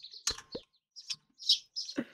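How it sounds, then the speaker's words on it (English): Birds chirp in short bright bursts with gaps between them, ambient birdsong from a PVP Legacy video game, fairly close and clear with no talk over it. "do you hear these birds?"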